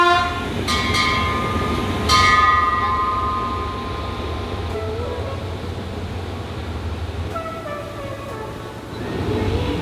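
Inside the Laos bullet train, a steady low rumble of the carriage at speed, with a few brief high horn blasts and whistle tones cutting through near the start and end.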